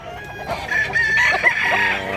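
A large one-year-old rooster with white legs crows at a poultry market in Mantalungon, Barili, Cebu, a loud close call rising and holding over soft background clucks and murmur.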